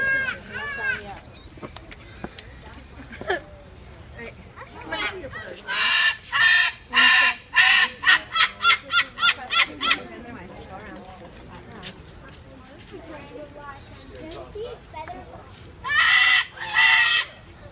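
Honking bird calls, goose-like, come in loud repeated bursts of about five in a row, then again in a shorter cluster near the end, with people chatting and talking throughout.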